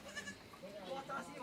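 A goat in a rural Nepali farmyard bleats in short wavering cries, close and fairly soft, over a murmur of background voices.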